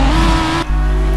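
Engine of the number 22 Apex GP race car at Hockenheim in a ChampCar racing game, a loud steady high-revving drone that briefly dips as the gear shifts, then carries on at full volume, no talk.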